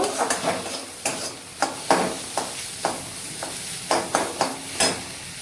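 A peanut filling for stuffed kakrol is sautéed in a pan, with repeated sharp scraping strokes of a spoon over a soft, continuous sizzle, close and fairly loud.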